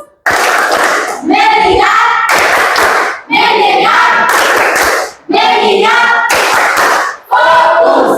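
A group of people, likely children in a class, perform the Indonesian 'tepuk fokus' clap routine: loud, rhythmic bursts of unison clapping with short pauses between phrases, close by.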